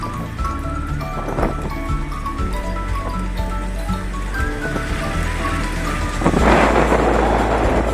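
Heavy rain pours steadily in a busy market area near Jabalpur, a dense hiss with traffic rumble and a louder surge of rain near the end.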